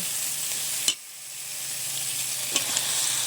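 Meat dropping into a pan of fried spice masala sets off a loud, steady sizzle. A sharp clatter of the addition comes early, then a couple of small knocks as the frying hiss continues.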